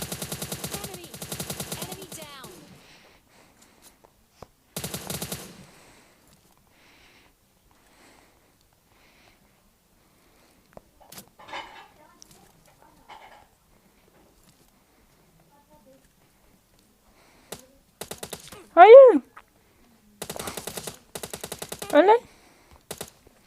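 Bursts of automatic gunfire from the mobile battle royale game PUBG Mobile Lite come in short rapid volleys separated by long quiet gaps, with brief voice sounds and game effects scattered between them.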